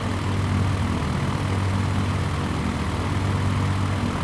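An aircraft engine in Microsoft Flight Simulator 2020 drones steadily during taxi on an incline, a constant loud propeller hum with low rumble and no talking over it.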